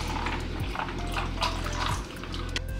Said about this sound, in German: Dann noch normale laktosefreie Milch.